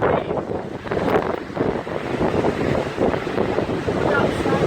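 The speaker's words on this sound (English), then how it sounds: "this is even windier than where we used to live" A strong wind storm roars outdoors, producing loud, gusty buffeting on the microphone with constant turbulent rushing and irregular surges throughout.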